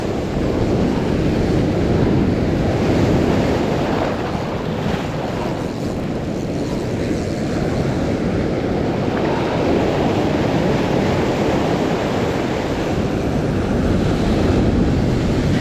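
Ocean surf rolls in as a loud, continuous roar with heavy wind buffeting the microphone, steady throughout with no talking.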